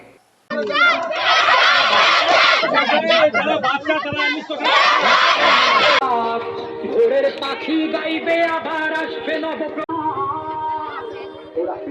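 Students at a school gate protest for their teachers' jobs, chanting slogans loudly in unison with a crowd. The rhythmic shouting is close and continuous, with shifts in the chant partway through.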